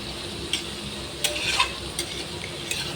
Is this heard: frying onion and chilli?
yes